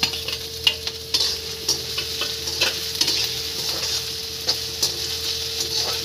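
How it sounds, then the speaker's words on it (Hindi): Finely chopped potatoes fry in a pan for aloo chuda, a loud continuous sizzle with repeated scraping stirs of a spoon scattered throughout and no one speaking. "ये बारीक कटा हुआ जो है आलू मेरा, इसमें डाल देते हैं हम"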